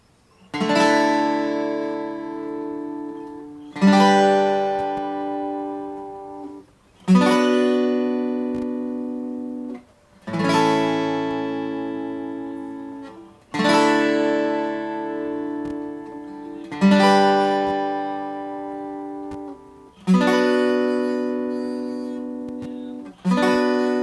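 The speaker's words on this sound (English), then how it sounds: "So it's a higher sound, and it's going to ring up with the overtones of the first guitar and sound something like this." Acoustic guitar played with a capo in a higher register as a doubling part, ringing strummed chords struck about every three seconds, each sustaining and decaying before the next, close and clear with no voices.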